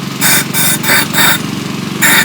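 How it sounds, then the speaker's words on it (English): Air compressor blowgun blasting air through a 1/4-inch PEX pipe while cleaning a 1975 Evinrude 40 HP outboard lower unit, in five loud hissing bursts of about a third of a second each over a low steady hum. "Take my blowgun from my air compressor."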